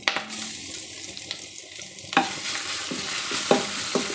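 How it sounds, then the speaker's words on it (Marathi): Ginger garlic paste is sautéed in a pan for a pigeon pea (tuvar) pulao: a low sizzle is broken by several sharp spoon scrapes and taps against the pan. "आलं लसूण पेस्ट छान अशी परतवून घ्यायची"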